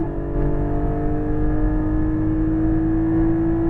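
A Porsche 718 Cayman GT4 engine pulling hard under acceleration on track, a steady loud droning tone climbing gradually in pitch, heard from inside the car with no talking.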